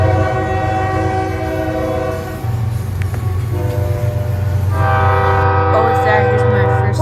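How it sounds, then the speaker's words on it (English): CP locomotive passing at night, sounding its horn in long blasts over rumbling wheels and rail noise, heard from indoors through a window. "here's my first time seeing a CP locomotive"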